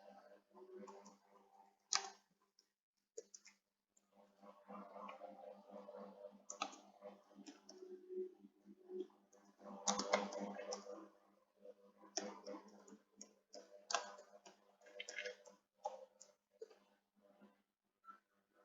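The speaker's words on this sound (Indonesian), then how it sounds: "Kita coba untuk mengetik." Computer keyboard typing while working in Microsoft Word: quiet, irregular clicks and taps in uneven bursts, close to the microphone, with a low steady hum underneath.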